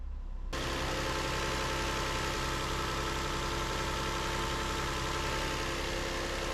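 A cheap used car's engine catches and settles into a steady, rough idle, a constant close rumble with a faint rattle and no talk over it.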